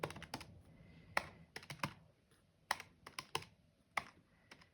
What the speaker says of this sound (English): So I'm pushing the keys hard.